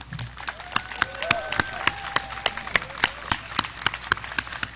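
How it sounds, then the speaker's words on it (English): At a fall commencement ceremony, an audience applauds with scattered, distinct claps at a moderate distance, steady but fairly sparse, with a voice speaking faintly underneath. "how about if you give a round of applause for all of them?"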